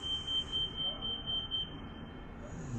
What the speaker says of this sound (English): that beeping noise was causing a ruckus in this whole neighborhood